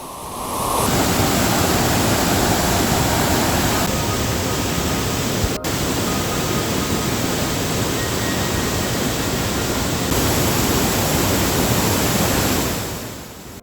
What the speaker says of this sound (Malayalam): ഇതാണ് നമ്മുടെ വെള്ളച്ചാട്ടത്തിൻ്റെ മോൾവശം